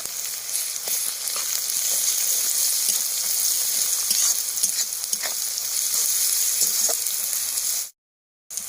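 Onion and garlic paste frying in a pan for ghugni, a loud, continuous close sizzle with faint stirring crackles, cutting off abruptly near the end.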